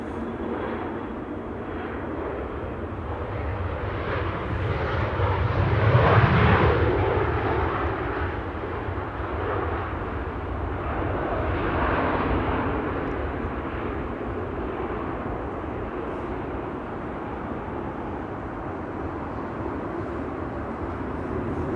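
A Transavia airliner arriving at Amsterdam Schiphol Airport makes a sustained jet rumble and rushing roar that swells to a peak near the middle, then eases and rises again more softly before settling into a steady drone.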